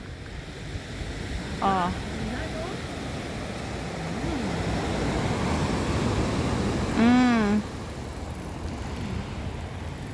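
Sea waves wash against the seashore in a continuous broad rush with wind noise, while a few people talk briefly over it.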